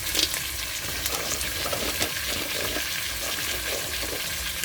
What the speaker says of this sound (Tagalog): ito po yung ginisang seashells mga idol